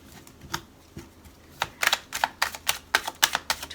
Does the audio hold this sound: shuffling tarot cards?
yes